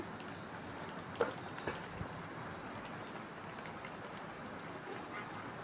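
Bottle gourd pulusu simmers gently on low heat in a pot, a soft, steady bubbling patter with a few small pops near the start, close and quiet, with no talking.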